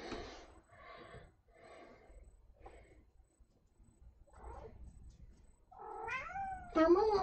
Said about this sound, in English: Don't meow at me like I'm not paying attention to you